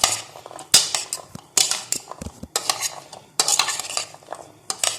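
A spoon scrapes and clinks against a bowl while mixing a chickpea salad with chutney and crushed green chillies, in irregular bursts of close, bright stirring with short pauses and no talking.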